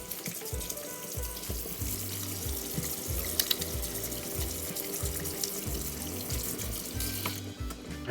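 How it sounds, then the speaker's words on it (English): Hands are washed under a running tap at a sink, with a steady close splash and gush of water flowing throughout, uneven and continuous, with no voices. "So it's really important that we wash your hands."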